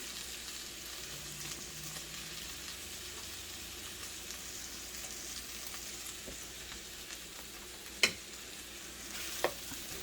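Party rice with bacon frying in a pan, stirred and pushed around steadily; a continuous soft sizzle with faint scraping, plus two sharp utensil knocks near the end.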